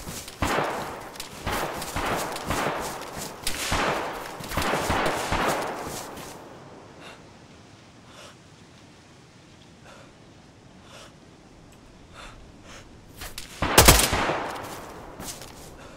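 Gunfire strikes trees in the woods of Crowbar, a series of sharp shots clustered early, then sparse faint pops and one loud crack near the end.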